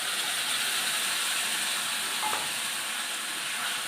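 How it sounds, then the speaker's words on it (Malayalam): A mashed boiled potato mixture is mixed in a hot pan over sautéed ingredients, giving a steady, even hiss and soft sizzle from start to finish, close and unbroken. "നമുക്ക് നല്ലോണം മിക്സ് ചെയ്ത് കൊടുക്കാം"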